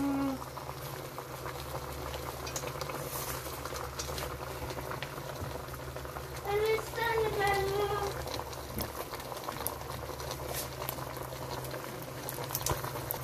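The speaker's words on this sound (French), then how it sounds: "on va couvrir et laisser bien bouillir" Sauce of snails, salt, Maggi and a little water boils in a covered pot, giving a steady close bubbling and popping throughout, with faint voices in the background.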